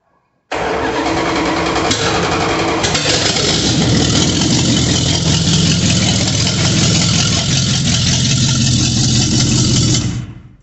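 The engine of a 1973 Dodge W100 truck, a hard starter, cranks briefly, then catches and runs at a loud, steady rumble for about ten seconds before cutting off abruptly.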